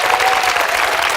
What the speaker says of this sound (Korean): 여러분 뜨거운 박수